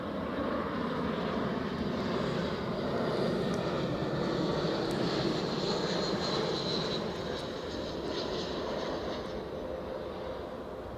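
A British Airways Airbus A321 at Edinburgh Airport produces a sustained, loud engine roar with a broad rushing hiss and a faint high whine, holding steady and easing slightly toward the end.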